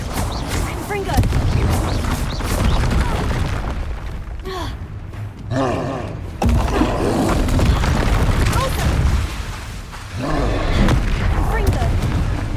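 Confringo blasting spells and other combat magic in Hogwarts Legacy burst in repeated booming explosions over a dense rumbling roar of battle, loud and close, with a voice speaking over parts of it.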